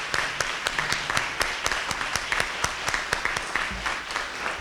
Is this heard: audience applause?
yes